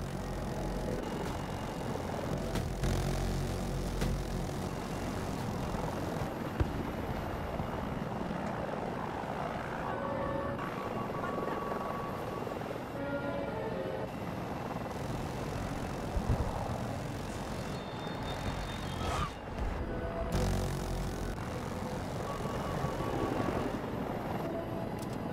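An enemy Hind attack helicopter in Battlefield 2042 drones continuously at a moderate distance, a steady rotor and engine roar holding level throughout with occasional brief shifts and faint battlefield noise beneath.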